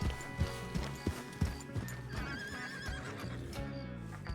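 A horse whinnies while hooves clip-clop in a loose rhythm close by, with rustling and a few soft voice sounds mixed in.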